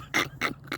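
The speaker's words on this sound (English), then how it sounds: "Is that a dog out there?" A dog outside gives three short, quick yelps or barks in a row, faint and somewhat distant.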